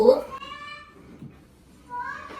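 A cat gives two short meows, one at the start and one near the end, close and clear over a quiet background.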